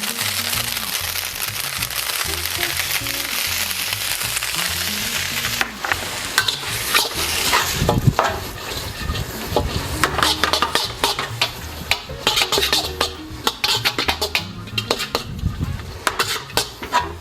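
Singapore noodles stir-fried in a hot pan as sauce goes in, a loud, dense sizzle that flares up partway through, with scraping and clanking of utensils against the pan close by and no talking.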